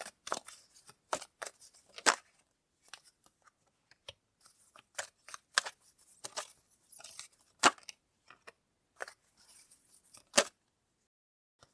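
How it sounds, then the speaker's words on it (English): A deck of tarot cards shuffled and drawn at close range, with quick crisp flicks, snaps and riffles coming in irregular bursts against quiet gaps. "I'll pull some more cards on that one."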